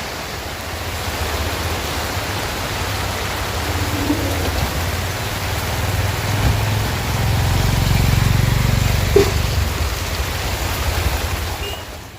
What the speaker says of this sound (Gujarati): ખતરનાક વરસાદ પડે છે